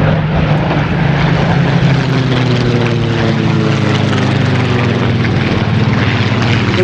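A Griffin aircraft flies past near a hard-surface runway a few hundred yards away, its propeller engine droning loud and steady throughout, the pitch slowly gliding as it passes.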